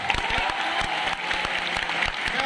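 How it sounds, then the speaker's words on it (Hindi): An audience at a teachers' seminar in Patna applauds the teachers with dense, continuous clapping, loud and steady throughout. "आज के दिन उन सभी शिक्षकों के लिए ताली हो जाए जिन्होंने सिग्निफिकेंट काम किया"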